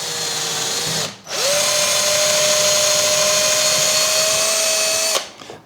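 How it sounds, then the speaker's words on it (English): A power drill boring a hole through the thin plastic outer wall of a vertical-spinner melty combat robot; loud steady whine, a brief dip and restart near one second, then a long continuous run that stops near the end. "I just drill a hole roughly into the outer wall here"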